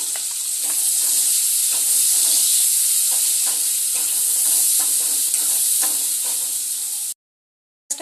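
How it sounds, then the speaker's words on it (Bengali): Finely chopped onions frying in hot oil until reddish, a loud continuous sizzle and hiss with faint stirring taps throughout, cutting off abruptly near the end. "পেঁয়াজগুলোকে ভেজে নেব তেলের মধ্যে, লাল করে পেঁয়াজগুলোকে ভেজে নেব।"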